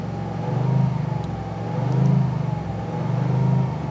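A small three-cylinder Toyota hatchback engine revs three times in steady swells, rising and falling, close by with no talking.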